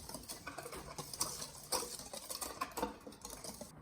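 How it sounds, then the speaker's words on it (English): A whisk stirs dry ingredients for orange and currant scones in a bowl, giving soft, quick, rhythmic scratchy pattering and light taps against the bowl, fairly quiet and close, with no talking. "Take a whisk and just sort of stir that"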